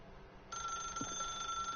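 A telephone in a video game starts ringing abruptly and keeps up a steady electronic tone, fairly quiet over a low background hum.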